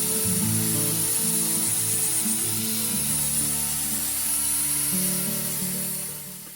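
A steady whirring power sander drones on continuously on wood, its pitch shifting slightly now and then, loud and close, fading a bit at the end.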